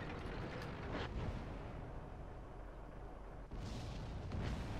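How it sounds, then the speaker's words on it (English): An artillery shot in World of Tanks, a faint distant boom under a constant engine rumble, followed by a second muffled blast near the end. "Is that an arty shot?"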